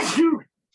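A single short sneeze, sharp burst then a brief voiced tail, close to the listener, followed by silence.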